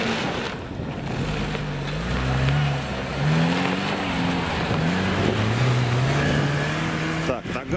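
A Chevrolet off-road car with two locking differentials, lowered gearing and a transfer case revs hard on snow, its engine note rising and falling in loud sustained pulls with voices heard over it.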